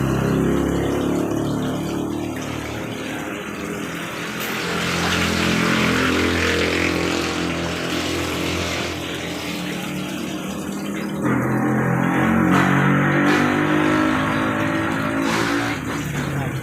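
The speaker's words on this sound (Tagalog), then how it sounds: "Masyadong maingay dito mga idol. So tabi lang tayo ng kalsada." Roadside traffic rumbling steadily close by, with vehicles passing and swelling louder and softer in waves throughout, a broad continuous engine and road noise.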